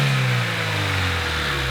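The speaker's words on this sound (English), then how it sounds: "The only noise you really heard was the cold air intake" Honda car engine fitted with a cold air intake, revving loudly with a steady drone and intake whoosh, rising and falling slightly over a short burst with no voices.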